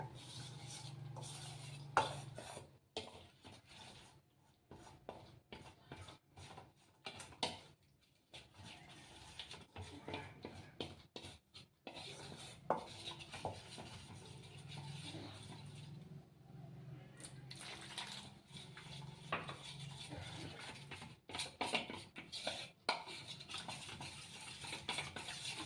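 Thin batter for dragon potato being stirred in a bowl, a steady run of soft scraping and clinking of utensil against the bowl, close up, with brief pauses and faint background noise.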